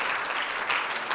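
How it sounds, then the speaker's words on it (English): Brief, soft applause from a live-stream event audience, a thin wash of scattered clapping lasting about a second at low volume. "Let's give them another round of applause"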